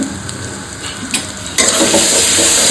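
Doi katla, rohu fish in a yogurt curry, sizzles and fries steadily in a pan while it is stirred, the hiss growing louder and denser partway through, with no one speaking.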